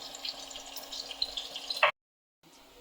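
Potatoes frying in a pan for a mixed vegetable dish, a steady close sizzle with faint crackles that builds, then cuts out abruptly before resuming softly.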